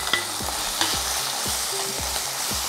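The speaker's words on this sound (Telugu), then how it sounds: "ఇది పోపు గింజలతో పాటు కమ్మని వాసన వచ్చేలాగా ఈ నూనెలో మనం దీన్ని వేయించుకుందాం." Coconut paste fries in oil with tempering seeds and curry leaves, a steady close sizzle broken by rhythmic scraping strokes of a spoon stirring the pan about twice a second, with no talk.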